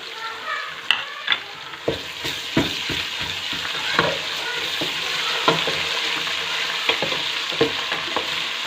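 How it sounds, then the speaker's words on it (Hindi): Steady sizzling of onions and ginger-garlic paste frying in a pan, with frequent sharp scrapes and taps of a spoon stirring throughout. "अब इसके अंदर हम अदरक लहसुन का पेस्ट ऐड करेंगे और इसको थोड़ी देर भून लेंगे"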